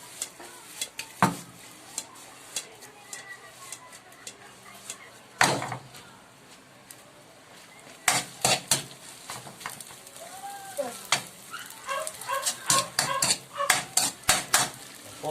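Garlic fried rice being toasted and stirred in a pan for chicken pares, with repeated sharp scrapes and clanks of a utensil against the pan over a faint sizzle.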